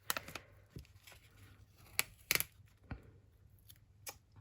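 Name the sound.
scissors cutting tape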